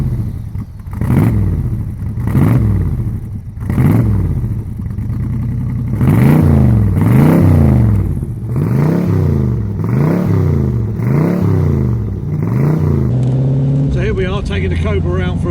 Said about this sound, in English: the Chevy engine V8 is throbbing away fantastically